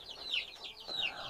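Nineteen-day-old crossbred chicks give soft, high, repeated peeping and clucking calls in a short, quiet burst, with a faint background hiss.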